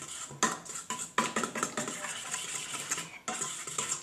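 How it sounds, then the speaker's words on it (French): Pancake batter being stirred in a bowl, a utensil scraping and clinking against the sides in uneven bursts, close and moderately loud, with no voices. "Et maintenant je vais mélanger."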